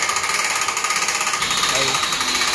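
A motorcycle lift platform is raised with a loud, rapid rhythmic mechanical pulsing close by, steady throughout, while someone speaks briefly over it.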